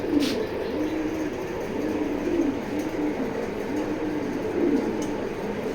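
Racing pigeons in a loft coo in low, repeated rolling calls, several birds close together over a steady background rumble.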